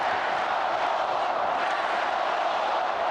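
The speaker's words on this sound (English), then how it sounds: "Crowd chanting, let's go Bulls." Basketball arena crowd at a 1993 NBA Finals game in Phoenix, Bulls vs Suns, chanting "let's go Bulls" as a dense, loud, steady roar of many voices filling the whole stretch.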